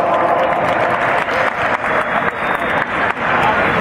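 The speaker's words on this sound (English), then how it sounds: "Give all these guys a big round of applause." Loud, dense audience applause fills the hall after the Heli Smackdown RC helicopter competition judging at E-FEST, a steady wash of many clapping hands with a few dips in intensity, voices mixed in.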